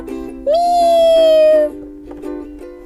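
A single long, high meow rising then sliding down, heard close and clear over a low steady tone, followed by quieter faint sounds.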